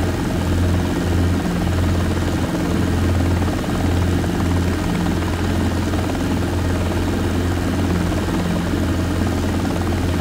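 Robinson R22 helicopter taking off in a flight simulator: a steady, loud, close engine drone with a low rotor thump that holds constant and unbroken, with no speech.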